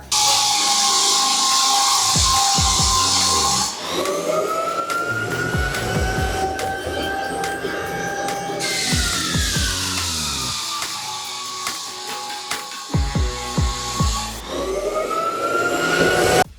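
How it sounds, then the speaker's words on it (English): A loud machine drones continuously as a floor sander grinds across an 80-year-old wooden floor, its pitch rising and falling with each pass, punctuated by knocks and thuds. "This is day 1 of sanding the floors."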